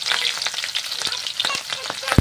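Onions, green chilli and ginger-garlic paste sizzle and crackle steadily in hot oil, a close, busy frying hiss with small pops throughout.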